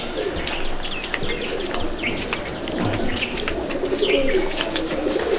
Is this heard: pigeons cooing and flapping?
yes